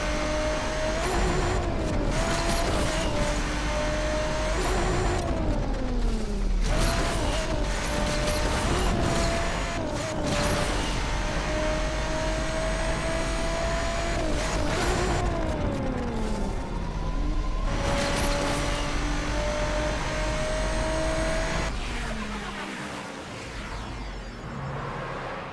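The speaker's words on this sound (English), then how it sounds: "Man, I love the roomy noises of this car." Ford car engine in the racing video game Asphalt 8, loud revving that climbs and drops repeatedly through gear shifts, with bursts of screeching skids and mechanical clanks, continuous for the whole stretch.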